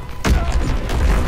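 A dull, heavy boom hits a quarter second in, followed by a muffled rumbling thud as an explosion blows up the player in the World War II shooter Call of Duty: WWII.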